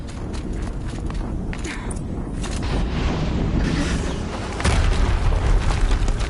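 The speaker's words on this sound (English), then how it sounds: "Another explosion." Explosions in the video game Horizon Zero Dawn, a dense rumbling boom that swells steadily and jumps louder near the end, with no talk over it.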